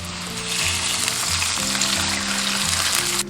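Cured pork frying in a wok with shallots and shrimp, giving a loud, dense, steady sizzle that runs through the whole stretch with no talking.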